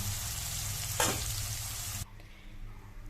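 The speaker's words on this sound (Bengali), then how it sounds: "উচ্ছেটা আমি লাল লাল করে ভেজে নিয়ে আস্তে আস্তে তারপরে তুলে নিচ্ছি" Bitter gourd slices deep-frying in plenty of oil give a dense, steady sizzle with one brief louder stir, then the level suddenly drops to a quieter, softer bubbling for the last second.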